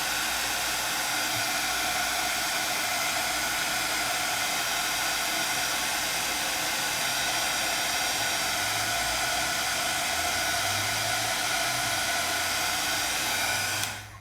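A craft heat tool blows steadily and loudly at close range for about fourteen seconds, heat-setting metallic blue embossing, with a continuous whooshing roar that cuts off abruptly at the very end.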